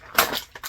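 A brief burst of crinkling plastic action figure packaging, crackly and close, with a couple of quick rustles at the end.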